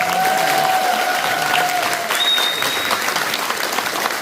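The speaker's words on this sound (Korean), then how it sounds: "다시 한 번 더 큰 박수 부탁드립니다" An audience at an education forum in Gumi applauds warmly, a sustained, even wash of many hands clapping throughout with a few faint tonal sounds over it.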